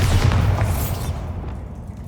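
A Bombarda spell explosion in the video game Hogwarts Legacy gives a loud, dense blast up front that rolls into a rumbling, fading tail over about two seconds, with no talk.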